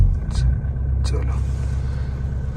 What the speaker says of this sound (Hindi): गाड़ी स्टार्ट हो गई एट लास्ट।